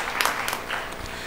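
Audience at a biomedical sciences symposium applauding, a continuous patter of clapping with a few sharper claps standing out, steady throughout.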